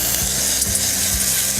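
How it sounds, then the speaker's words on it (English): Blended sauce with sofrito poured onto rice frying in a pan sizzles in a steady, crackling hiss, close and moderately loud, with faint scraping beneath. "I love hearing that sizzle"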